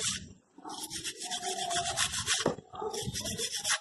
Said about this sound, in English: Just take any wire brush just to clean these hardwares.